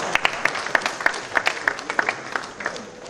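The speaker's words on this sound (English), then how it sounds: "I was expecting a round of applause." Sparse, scattered handclaps from a small audience at an eGovernment summit, a dozen or so separate claps over a few seconds, moderately loud in a reverberant hall, with no talking.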